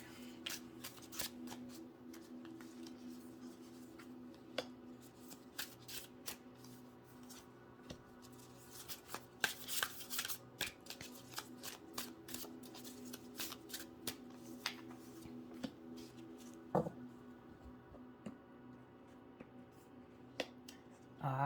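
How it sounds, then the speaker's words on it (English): Tarot cards being shuffled and drawn at close range, a long run of quiet riffling, flicking and slapping card sounds with sharper snaps scattered throughout and no talking. "Let's get a few more cards coming out here for you guys."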